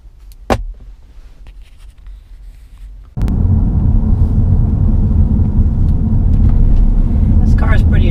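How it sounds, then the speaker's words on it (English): Steady broadband road and engine rumble from inside a moving 2013 Ford C-Max Energi, starting abruptly after a few seconds of quiet interior sounds and continuing loudly. "This car is pretty enjoyable to drive."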